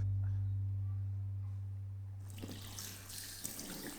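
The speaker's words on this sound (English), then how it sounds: "Let's wash our hands." Hands washed under a running tap at a sink, a steady broadband rush of water starting partway through and continuing to the end, close and moderately loud over a low hum.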